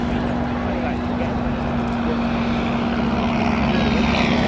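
Two WWI biplanes, an Avro 504 and a B.E.2c, fly at an airshow, giving a steady, continuous propeller-engine drone throughout with a low hum, while commentary plays over it.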